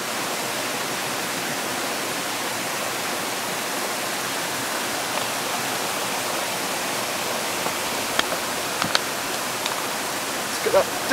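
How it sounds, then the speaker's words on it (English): Water pours into a pot on a camping stove, an even, hissing rush that holds steady throughout, with a few small clinks near the end. "Put some water in."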